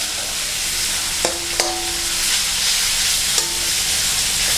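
Pork is stir-fried in fragrant Thai jungle curry paste for a meatball curry, giving a steady close sizzle with a few sharp clinks of a spatula against the pan.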